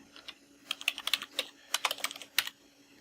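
Quick bursts of typing on a computer keyboard, clustered clicks and pauses at close range, with no voices.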